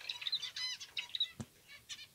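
Male Java sparrows (Padda oryzivora) scuffle with quick bursts of flapping wings and short, high chirps. There is one sharp knock partway through. The sounds are faint, close and choppy, with no talk.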